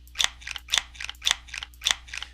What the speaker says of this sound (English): Added sound effects for cutting the wires.